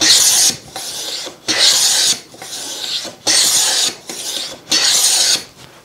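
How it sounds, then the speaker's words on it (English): A hand plane, used for forming moldings, shaves timber in five long rasping strokes with short pauses between them, close up and with no one talking. "I've got a little divot here, so I'm just going to plane that out to make sure we're working on a nice flat surface."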